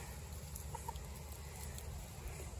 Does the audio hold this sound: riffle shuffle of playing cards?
no